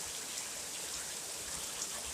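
Heavy rain pouring during a tropical storm, a steady hiss of rainfall drumming on surfaces, continuous and fairly soft, with no voices.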